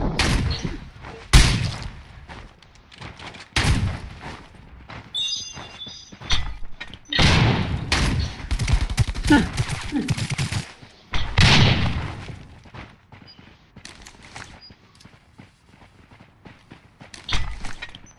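Bombing in the video game Rules of Survival, a battle royale: a series of loud, separate blasts and impacts at irregular intervals, with quieter clatter and footstep-like sounds in between.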